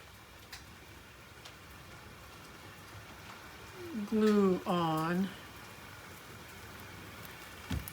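Hail pelting down outside an open craft room door, a steady patter and rattle spread across the whole stretch, with someone briefly speaking over it midway.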